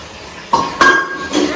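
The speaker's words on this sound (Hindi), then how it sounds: "मैंने सोचा बर्तन धो लेती हूँ, सुबह के चाय पानी के बर्तन थे" Pots, utensils and morning tea dishes clink and clatter as they are washed in a home kitchen, a few sharp metallic knocks in quick succession, close and fairly loud.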